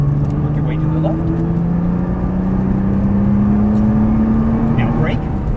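A Nissan GT-R engine hums and rises steadily in pitch as the car accelerates on a racing track, a close, loud drone with an instructor's voice heard over it.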